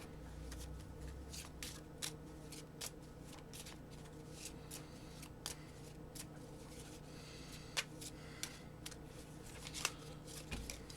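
A Keyforge card deck is shuffled by hand in quick, faint riffling bursts, a steady patter of soft card snaps continuing for several seconds.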